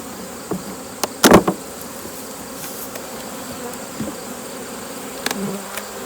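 Honeybees buzzing around backyard beehives, a steady outdoor drone of many insects with a few louder passes close by and occasional faint knocks.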